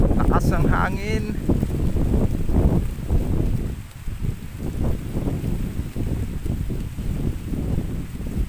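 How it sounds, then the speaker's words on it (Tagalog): Strong wind at a Philippine Eagle feeding site pounds the microphone with a heavy, continuous rumbling roar, loud and close, with a brief high whistle-like tone near the start. "Lakas ang hangin."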